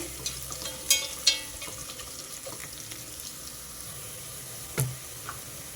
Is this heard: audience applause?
no